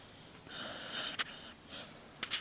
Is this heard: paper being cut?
no